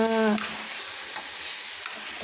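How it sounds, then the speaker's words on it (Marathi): Pumpkin curry with chopped coriander is stirred in a pan over the heat, giving a steady soft scraping hiss with a brief tonal squeak at the start, close and moderately loud, with no voices. "आता आपण वरून बारीक कोथिंबीर टाकून घेऊ आणि मिक्स करून घेऊ"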